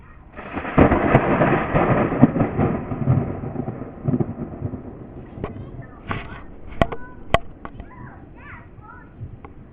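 Thunder from lightning strikes in a storm with a tornado approaching, a long loud rumble rolling for several seconds, followed by sharper cracks and lighter crackles; someone talks over it.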